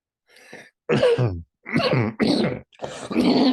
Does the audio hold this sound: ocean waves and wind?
no